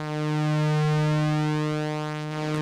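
Several waveforms from an AJH Synth Wave Swarm oscillator module are blended into one thick, sustained buzzing drone with pulse-width-modulated movement, steady and close, with no voices.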